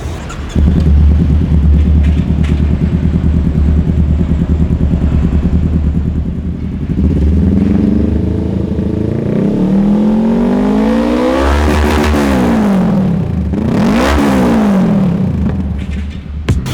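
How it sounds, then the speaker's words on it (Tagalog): A Honda Rebel 500 motorcycle with a twin exhaust idles with a loud, close, throbbing rumble, then is revved several times, each rev rising and falling again, with no one talking. "So ito yung twin exhaust natin dito sa Rebel 500. Samahan niyo ako sa sound check natin."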